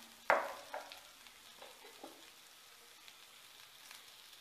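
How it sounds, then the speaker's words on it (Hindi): Potatoes fry with salt and spices in a pan. A sharp sizzle bursts up near the start, then a quiet crackle continues with a few soft stirring scrapes. "हमारी आलू अच्छे से भून चुकी है"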